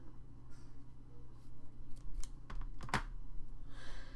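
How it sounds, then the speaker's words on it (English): Scissors snip loose threads off a handmade junk journal with a couple of quick, light cuts close by, over a steady low background hum. "So let's snip those off"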